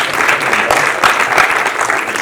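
A conference audience at a summit in San Francisco claps steadily throughout, a dense, even wash of many hands close to the room's pickup, with no voices over it.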